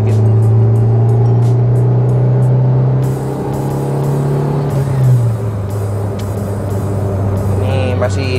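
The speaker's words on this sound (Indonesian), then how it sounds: "Coba kita gas dikit." Honda Brio turbo with an L15A engine pulling in third gear on a toll road, a steady low engine drone rising slightly in pitch under mild throttle, close and continuous with road and wind noise and someone talking over it.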